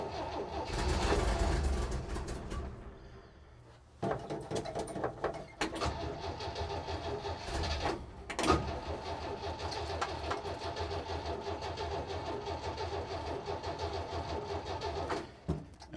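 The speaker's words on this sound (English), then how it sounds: "it'll crank over a little bit like that and then not start" A Kaiser M715 military truck engine cranking over on its starter without catching, with a loud opening burst, then a long stretch of steady mechanical churning and a few sharp knocks, alone and fairly close.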